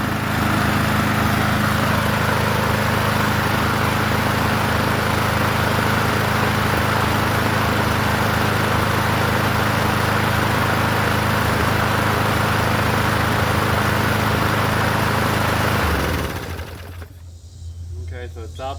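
Free 21-inch Murray push lawn mower engine running steadily at moderate RPM, a loud, close, even drone for most of the duration before it cuts off near the end.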